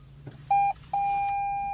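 A 2022 Toyota Corolla Cross Hybrid sounds its chime after the power button is pressed, with two clear electronic tones close by, a short one and then a longer sustained one, over faint cabin hum.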